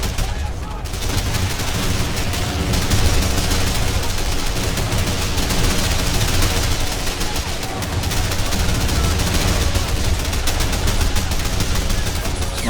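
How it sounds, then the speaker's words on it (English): Field cannon blasts and rolling gunfire from a Men of War battle, a dense, continuous wall of loud shots and explosions filling the whole stretch, with a voice faintly under the din. "Field cannon's proving quite effective there."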